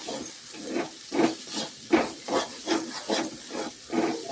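Green peas and ground paste stirred and sautéed in a pan, a soft sizzling hiss broken by a steady rhythm of scraping spoon strokes roughly every 0.7 seconds, close and moderately quiet.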